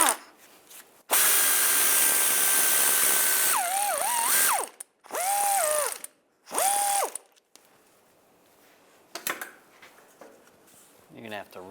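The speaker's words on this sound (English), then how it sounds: "Now we're going to take these bolts out for the axle." Ratchet with an M8 triple square socket backing out axle bolts on a 1999-2005 Volkswagen Jetta front driver's side CV axle: a long steady ratcheting buzz, then several shorter whirring bursts with rising and falling pitch, followed by quieter clicks and handling.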